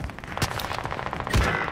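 Rapid automatic gunfire in the Warzone video game on Fortune's Keep, a loud close burst of overlapping shots with a heavier blast near the end.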